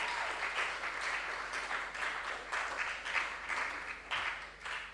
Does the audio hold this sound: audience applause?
yes